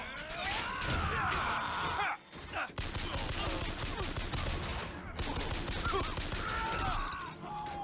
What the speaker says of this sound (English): This volley gun's okay, but it's kind of weak, to be honest.